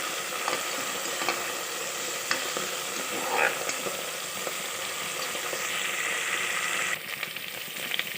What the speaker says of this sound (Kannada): ಒಗ್ಗರಣೆಗೆ ಹಾಕೊಂಡು ಸ್ವಲ್ಪ ಇದನ್ನು ಫ್ರೈ ಮಾಡ್ಕೊತೀನಿ ಚೆನ್ನಾಗಿ